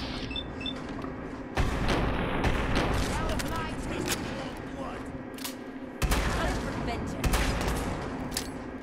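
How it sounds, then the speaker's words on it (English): Automatic weapons fire in a Fallout game, heavy bursts and booms starting sharply and repeating across the stretch, loud against a steady background with speech mixed in. "Automatic weapons."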